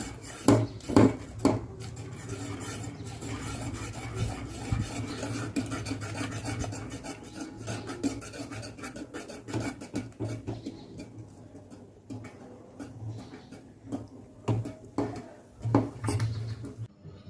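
Rice batter stirred briskly in a pot with a rolling pin, making continuous scraping, rasping strokes with occasional clinks against the metal, fairly close and steady throughout, fading somewhat near the middle before resuming.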